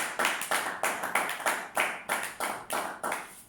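Hand clapping rings out in a steady, rhythmic beat, about three claps per second, from a church congregation acclaiming during a Sunday service.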